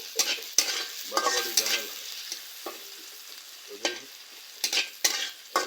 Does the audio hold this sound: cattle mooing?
no